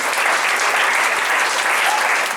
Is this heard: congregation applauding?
yes